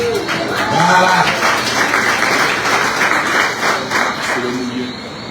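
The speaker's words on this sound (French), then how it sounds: "Il y a 3 personnes qui applaudissent" A few people applaud at a cycling tour presentation in Guadeloupe, thin scattered clapping that continues under a speaking voice.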